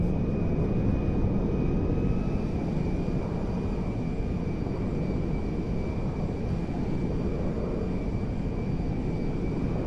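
Engines of a C-17A Globemaster military transport aircraft in GTA 5 give a steady, loud, continuous roar with a faint high whine, holding constant throughout without breaks.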